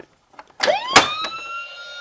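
Toy car alarm from a Castle Grayskull playset: a few clicks, then a sharp electronic siren tone rising and holding steady, close and loud, with no talking.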